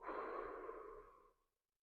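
A person exhales slowly and steadily during a breathing exercise, one close, soft, airy out-breath lasting over a second before fading to silence.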